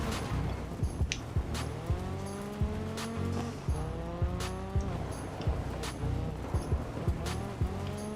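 A rally car races around a rallycross circuit in DiRT 5, its engine revving up and dropping through repeated gear changes, with tire noise and skids, close and continuous with no talk.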